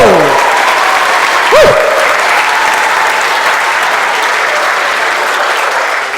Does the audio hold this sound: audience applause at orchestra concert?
yes